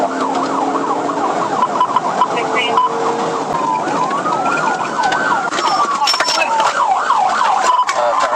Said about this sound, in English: They promptly activated their sirens and initiated a pursuit